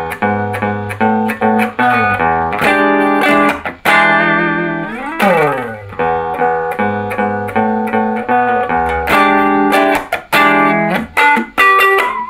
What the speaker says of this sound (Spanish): Así suena este amplificador sin el reverb prendido.